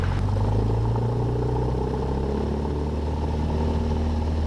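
A Cessna 172 engine runs at full power during takeoff, a loud, steady droning hum that holds constant throughout from inside the cockpit.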